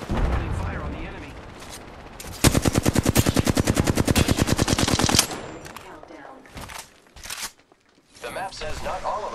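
Automatic rifle fire aimed at an enemy in the video game Apex Legends, a loud, fast rapid-fire burst of about three seconds with sharp repeated cracks, framed by game effects and character voice lines before and after.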